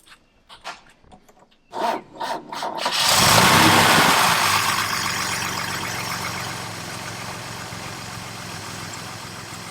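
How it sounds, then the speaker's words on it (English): An engine fitted with a Zenith 3540 carburetor is cranked with several short grinding bursts and catches. It settles into a steady, loud, high idle that eases slightly as it runs on. "Now, in order to do this, we have to start the engine"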